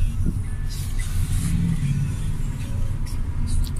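A London taxi drives along near the Thames, its engine giving a steady low rumble with a faint rev or two, close and continuous with no talk over it.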